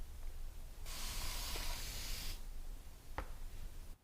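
A can of natural glass varnish sprays a coat onto a gouache painting, one steady hiss lasting about a second and a half, close and clear, followed by a brief faint click.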